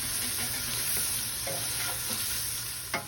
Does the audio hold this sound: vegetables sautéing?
yes